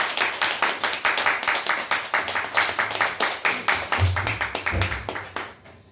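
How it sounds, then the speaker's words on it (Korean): A church congregation claps in welcome at an evening revival meeting, steady rhythmic hand claps close and even throughout, with a brief low voice underneath near the end. "우리 박수로 환영합니다."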